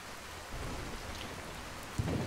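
Steady rainfall patters with a low rumble of thunder rolling underneath and a brief louder crack near the end, fairly soft and without voices.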